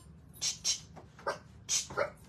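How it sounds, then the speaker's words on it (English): A small dog gives several short, high yips in quick bursts, fairly close, with a faint low hum in the background. "That little bark is Gidget, and she gets everybody going"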